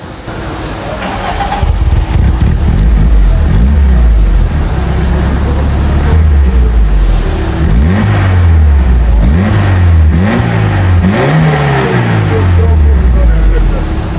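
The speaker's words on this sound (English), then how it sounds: "That's the sound from a bone stock Toyota Conquest 1600 RS." A bone-stock Toyota Conquest 1600 RS fires up from cold and revs repeatedly. Its engine climbs and falls in a series of close, loud throttle blips over a steady idle.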